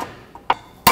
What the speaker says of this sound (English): put your pry bar right up against the clamp and then just whack it with your hammer